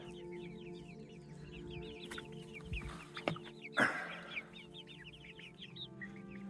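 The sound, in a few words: chickens clucking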